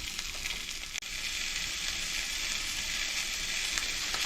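Brats sizzle in a cast iron skillet, a continuous bright crackling hiss at close range, steady in level apart from one brief dip, with no voices over it.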